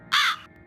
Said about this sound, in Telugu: ఈ కాకి గోల ఏందో మామ.